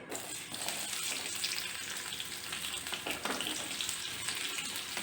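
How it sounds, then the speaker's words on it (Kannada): One large onion fries in about two spoonfuls of oil, a continuous, moderately quiet sizzle with a few light stirring sounds. "ಎರಡು ಸ್ಪೂನಷ್ಟು ಎಣ್ಣೆ ಹಾಕಿದ್ದೀನಿ ಈರುಳ್ಳಿ ಒಂದು ದೊಡ್ಡ ಈರುಳ್ಳಿ"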